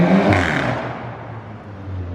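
Modified VW Golf GTI with a loud engine and exhaust pulls away, a brief surge of revs fading into a lower, receding drone with no speech.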